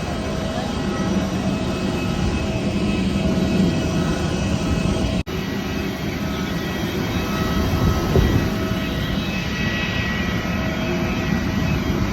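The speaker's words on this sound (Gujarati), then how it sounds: "અમારી સીટ અમે લઈ લીધી અને પ્લેન છે એ ટેક ઓફ થઈ ગયું." Steady, loud roar of a passenger plane's jet engines during takeoff from Rajkot's Hirasar airport bound for Delhi, heard from inside the cabin as a continuous rumbling drone with a brief dropout partway through.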